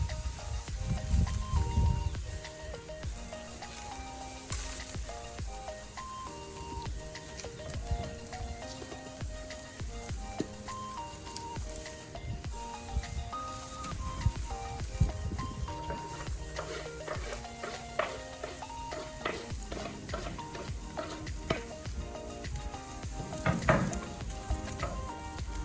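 Picanha beef sizzles steadily on a hot grill, a dense continuous frying hiss with crackles close up, lasting throughout over faint music in the background.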